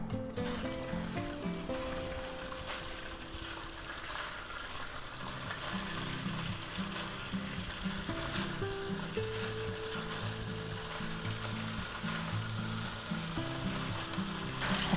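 Turkey meat frying in hot peanut oil in a pan, a continuous close sizzle and crackle that holds steady throughout, with a melodic tone running underneath.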